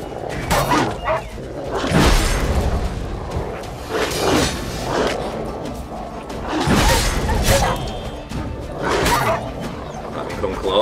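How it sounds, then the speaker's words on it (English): Wild dogs barking in The Witcher 3: Blood and Wine, several loud bursts of barks and yips at intervals over a busy game soundscape with whooshes and low booms. "I actually think that's wild dogs."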